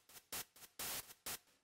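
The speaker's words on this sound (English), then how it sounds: "And then we just need a white noise layer." A white noise layer from the Serum synth plays as rhythmic bursts of hiss, alternating short and longer pulses over about a second and a half, fairly quiet with no voices.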